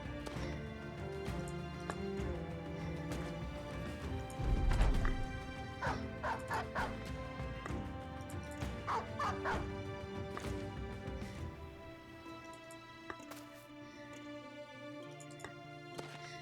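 A dog in the video game Battle Brothers barks and yips repeatedly over game music and clashing combat sounds, then the scene quiets.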